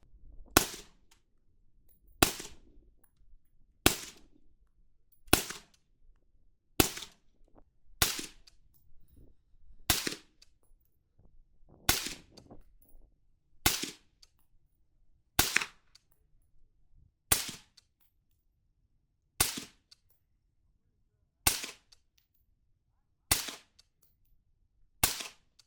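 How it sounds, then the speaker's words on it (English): Control rounds from a DTL-X rifle crack out one at a time in a slow, steady series of about fifteen sharp, loud reports, each with a brief decay and quiet gaps between. "We'll shoot some control rounds for sound here next."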